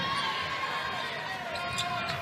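Crowd noise fills a women's college basketball arena during UConn vs Xavier, a steady, moderately loud murmur and cheer with faint squeaks and a whistle-like tone, no distinct words.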